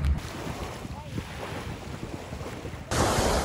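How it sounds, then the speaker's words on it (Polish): Sea waves wash onto the beach at Hel, Poland, a continuous rush of surf buffeted by wind noise on the microphone, with a louder gust near the end. "Jestem nad morzem, jest pięknie"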